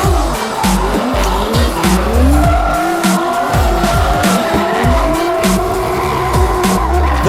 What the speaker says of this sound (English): Troy Jenkins and his 2JZ GT86 putting in a quick run against Ben Wilkinson